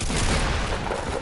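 Dense gunfire from a John Wick video game bursts in a loud, continuous volley of booming shots within a brief moment, with no speech over it.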